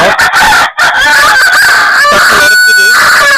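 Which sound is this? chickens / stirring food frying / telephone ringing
chickens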